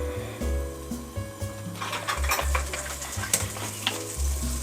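Butter melts and sizzles in a pan for caramel popcorn, with a low steady hum and light crackling and stirring scrapes.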